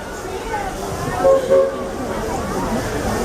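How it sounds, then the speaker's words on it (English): Two short whistle blasts sound amid the steady rumble of a Walt Disney World Railroad train, with background chatter mixed in. "Those two whistles have cleared us for forward motion"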